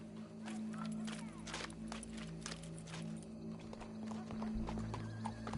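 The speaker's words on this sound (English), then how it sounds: "Go brush that horse" Horse hooves clop steadily while a horse whinnies, over a constant low hum and some background murmur.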